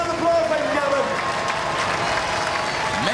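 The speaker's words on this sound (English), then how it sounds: "OK, give them a round of applause, ladies and gentlemen." Studio audience applauds competitors on the Robot Wars television show, a steady wash of clapping and crowd noise with cheering and voices under it.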